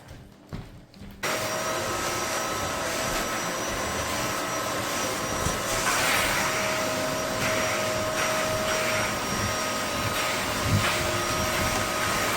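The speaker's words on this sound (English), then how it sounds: "I got a stick Dyson and a Dyson upright. Cody is using the upright, and I'm going to use the stick" Dyson upright and stick vacuum cleaners run on a living-room couch, switching on after a brief quiet start into a loud, continuous whine with a steady high tone and slight shifts as the heads move.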